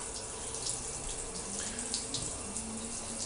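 Water streams steadily from a hotel bathroom shower head at a Hyatt Place in Biloxi, a constant hiss with faint splashing that carries on unbroken throughout.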